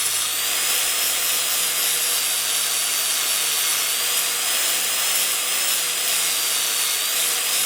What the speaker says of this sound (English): Now it's time to shave down the actual pump